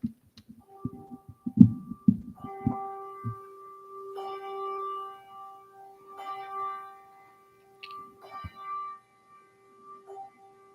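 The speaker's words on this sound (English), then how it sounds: "Scrooge awoke when he heard the bell sounding the hour of midnight." A bell tolls the hour of midnight in slow, evenly spaced ringing strikes with long sustained tones, following a few dull low thumps at the start.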